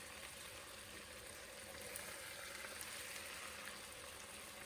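Chicken fries in a pot for Arabian mandi rice, a quiet continuous sizzle and bubbling hiss with faint crackles and pops, steady throughout and without talking.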